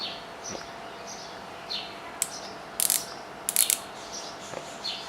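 A Daiwa Tatula TW-100XH baitcasting fishing reel spool turns with faint mechanical ticks and soft clicking bursts. A few sharper ratchet-like clicks stand out against a quiet background.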